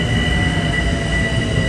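An LIRR M3 commuter train passes close by on the Main Line during the evening rush hour with a loud, dense roar of wheels on rails and steady high-pitched squealing.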